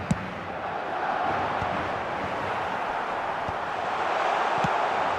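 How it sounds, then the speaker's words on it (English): A broad, steady wash of crowd applause and cheering fills the stadium in the football video game eFootball 2026, sustained and fairly loud, with a few faint thuds underneath. "it's applause all round us here"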